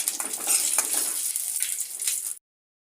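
Ten to twelve dried red chilies fry in about a teaspoon of oil in a pan for village-style chicken sambar, giving a close, bright, steady sizzle with light stirring that cuts off abruptly.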